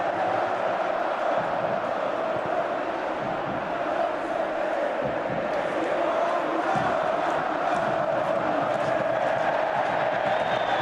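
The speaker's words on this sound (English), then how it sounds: "a magnificent crowd inside this stadium, making it a great occasion" A packed stadium crowd at an Atlético Madrid versus Real Madrid Copa del Rey match late in extra time keeps up a loud, continuous roar and chanting, steady throughout.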